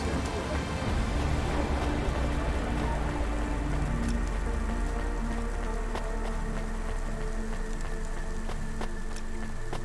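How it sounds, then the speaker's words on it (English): Dense rain falls continuously in the rain-soaked city of the video game Cloudpunk, a thick, even hiss of drops on surfaces over a low rumble, with scattered sharper drips standing out. "It seems to be like always raining in this game."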